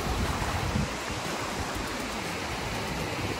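Steady wash of ocean surf at a beach, broad and continuous with a slightly stronger swell at the start, heard alone without talk.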